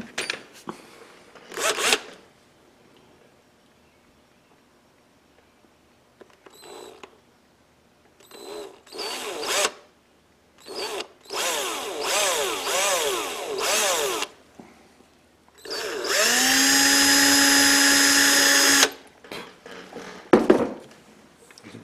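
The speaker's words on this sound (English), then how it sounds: "And get my drill." Short bursts of handling noise, then a steady high-pitched electric drill whirs continuously for about three seconds before stopping, close and loud, drilling a hole in leather chaps.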